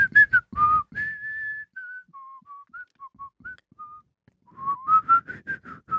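A person whistles a short melodic tune of sustained clear notes, framed by quick chirpy whistled bursts at the start and end, close and fairly quiet.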